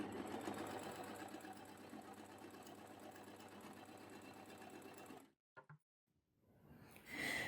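An overlocker (serger) stitching fabric, running in a fast steady mechanical whir for about five seconds before stopping abruptly, followed by brief quiet handling noises.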